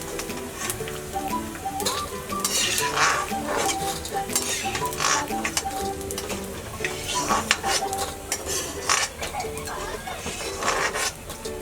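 Edible gum (dink) fries in hot oil with busy, loud crackling and popping, while a bird cooing and faint voices sit in the background.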